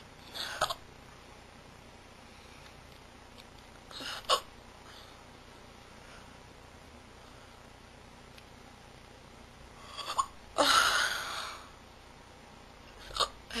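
Short, sharp hiccups come in an irregular handful, close and fairly loud against a quiet room, one stronger burst near the end.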